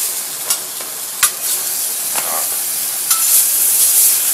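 Chorizo sauce fries in a pan with a steady, close sizzle and hiss, broken by occasional scraping clicks of stirring.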